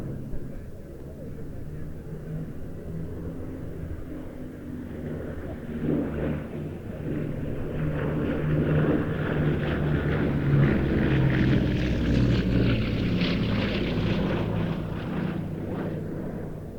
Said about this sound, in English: solo displays by the likes of the Lysander 3 and Blenheim 1F